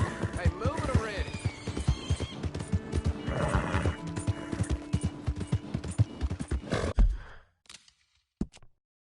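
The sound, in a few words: horse neighing and hooves clip-clopping in video game Red Dead Redemption 2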